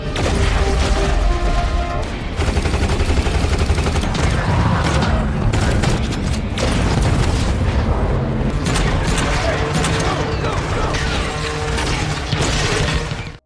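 A sci-fi space battle between special forces and alien Sigia troops erupts in dense, loud gunfire, rattling bursts and booming explosions that layer continuously over a swelling soundtrack.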